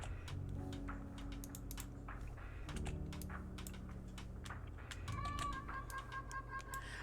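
Keys clatter on a computer keyboard in quick, irregular bursts of clicks, fairly faint and close, with soft tonal hums and chirp-like sounds running underneath.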